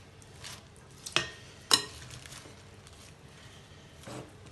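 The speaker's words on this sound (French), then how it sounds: "on met notre sauce vinaigrette. Bon, on va les mélanger." Minced beef is mixed with vinaigrette sauce in a bowl, giving soft, wet stirring sounds. Two sharp utensil clinks stand out near the start, and a gentle scrape follows later.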